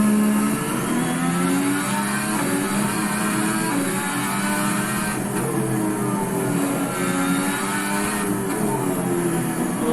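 A Ferrari SF70H Formula 1 car in the racing game Assetto Corsa screams continuously at high revs, with the engine pitch rising and falling through gear changes. It is loud and close, with no talking.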